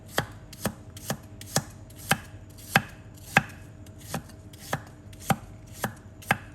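A knife chops vegetables steadily on a cutting board, about fifteen evenly spaced sharp knocks with no talking.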